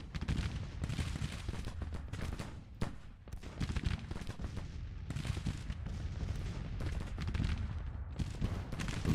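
Sustained battle fire from a Civil War strategy game, Grand Tactician: The Civil War: dense musket gunfire crackling continuously with heavy artillery booms rolling underneath, loud and unbroken throughout.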